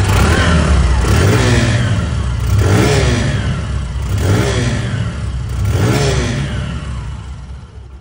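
A Hero Ignitor Xtec motorcycle engine revs up and down in four loud, close swells, each throttle blip rising and falling, with a steady idle rumble between them and no voices.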